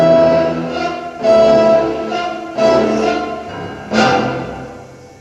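Slow, lyrical phrases on piano and strings from the concertino part of Stravinsky's Capriccio, played at half speed: four swelling chords that rise and fade in turn, gentle and sustained with no voices.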